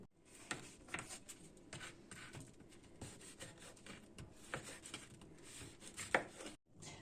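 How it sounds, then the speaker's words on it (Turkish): A knife chops simit bread rings repeatedly on a board, irregular taps and thuds at a steady working pace, fairly close and quiet. "Öncelikle 2-3 tane simidi alıyoruz ve doğruyoruz."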